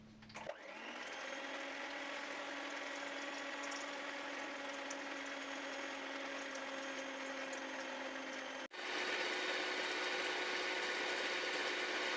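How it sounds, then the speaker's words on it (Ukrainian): Egg whites with citric acid and sugar are whipped into stiff foam for plum marshmallow. A mixer motor whines steadily and loudly close by, then briefly cuts out and restarts at a higher, harsher pitch. "Далі додаємо лимонну кислоту, цукор і збиваємо до щільної піни."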